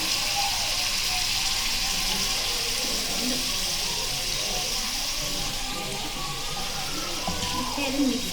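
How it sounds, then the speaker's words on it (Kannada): Water is poured into a freshly ground paste of green chili, herbs, ginger, garlic and tomato, giving a soft continuous splashing trickle in a home kitchen that stays steady throughout, with faint background noise. "ಸ್ವಲ್ಪ ನೀರು ಹಾಕ್ತೀನಿ"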